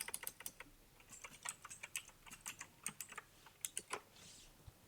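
Fingers typing on a computer keyboard in bursts of quick, crisp clicks, close and clear, with short pauses between runs of keystrokes and no talking.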